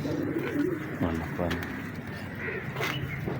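Pigeons at a pigeon-flying show coo softly and repeatedly over a busy outdoor background, with voices talking nearby.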